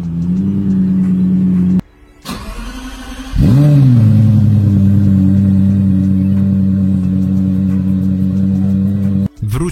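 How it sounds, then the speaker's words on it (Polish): A Lexus LFA's Japanese V10 cranks briefly, then catches and flares into a loud rev before settling into a steady, even idle, close and alone. "Lexus LFA. Ten super samochód to już legenda, a jego japońskie V10 brzmi niczym symfonia."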